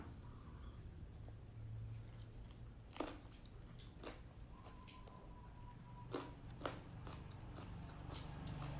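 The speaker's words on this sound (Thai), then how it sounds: "เสียงใครกินอยู่ข้างหลังดังจุ๊บจับจุ๊บจับเลย" Someone eats noisily in the background, chewing a spicy Thai khanom jeen noodle salad with fermented fish sauce. Faint smacking and crunchy bites come in irregular clicks over a low steady room hum.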